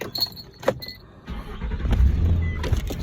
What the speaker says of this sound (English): Start the truck up.